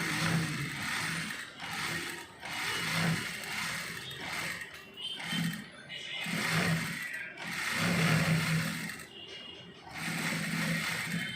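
A sewing machine stitches a lower garment in rhythmic, whirring runs of a few seconds each, separated by short pauses, and is heard close by.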